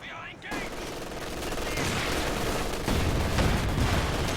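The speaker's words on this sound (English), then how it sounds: "Double MGs here, making it very hard for this allied advance." Machine gun fire crackles steadily through a Company of Heroes 2 battle as two MG positions hold back an Allied infantry advance, dense and continuous bursts growing louder toward the end.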